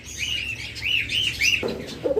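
Lutino red-eye peach-faced lovebirds chirp and twitter in quick, high bursts, fairly close, with a lower squawk near the end.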